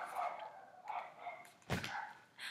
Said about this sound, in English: All you're hearing is my dogs barking.